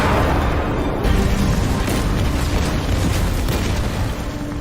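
A heavy, rumbling ammunition explosion roars continuously, with deep booms and crackling bursts layered through it, loud and close throughout, from a war film.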